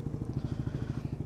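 Motorcycle running on a breakfast ride to Infanta, Quezon, a low pulsing engine throb with quick even firing beats, close and steady for the whole moment.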